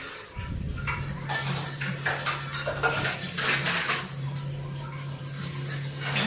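Dishes, pots and utensils from a breakfast of chilla being washed at a sink, with steady clattering of metal and ceramic, running water and a constant low hum throughout, close up with no talking.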